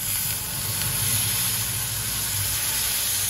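Kulith (horse gram) flour stirred into water is poured into hot tempering in a pan for traditional pithale, giving a steady, even sizzling hiss that holds throughout with no talking.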